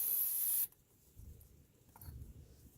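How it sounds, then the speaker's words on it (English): A short, steady burst of brake cleaner spray hisses loudly for about half a second onto a 2003-2007 Honda Accord engine's oil leak area, then stops, leaving faint rustling and handling noises. "I like to get the brake cleaner and spray around the area that the oil leaks on"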